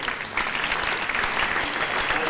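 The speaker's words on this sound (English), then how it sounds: "Please, can you give everybody a round of applause?" An audience gives a round of applause at the 24th AATWA annual conference, steady dense clapping filling the room and sustained loudly throughout without pause.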